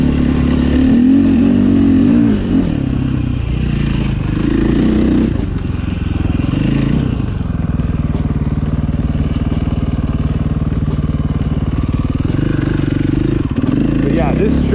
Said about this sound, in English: Second gear has a really nice overlap, so you can kind of lug in, and then you don't have to rev out first.